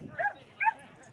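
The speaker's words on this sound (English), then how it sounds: "Guard dog." A guard dog gives two short, high yipping barks about half a second apart, fairly quiet and somewhat distant, over a low background murmur.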